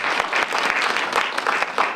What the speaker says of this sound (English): everyone can give her a round of applause